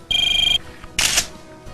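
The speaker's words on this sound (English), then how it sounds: "give me your phone, because it's ringing." Mobile phone ringing with a bright, pulsing electronic tone for about half a second, followed by a short rustling burst as the phone is handled.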